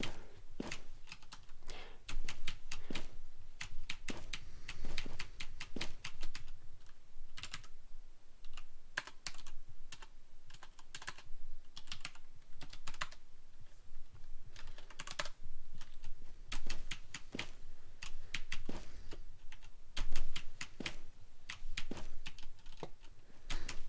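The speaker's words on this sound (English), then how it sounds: "I was still typing it out." Rapid clicking keystrokes on a computer keyboard continue steadily at close range, with uneven bursts and brief pauses, alone without talk.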